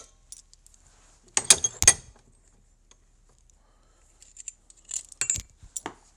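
Metal clamp picked up and handled at a workbench during repair of a Mauser 71/84 rifle barrel band: a few sharp metallic clinks and rattles, then quiet, then another cluster of clanks, close and fairly soft.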